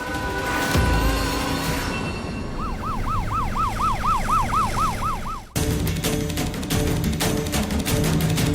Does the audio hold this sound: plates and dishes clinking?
no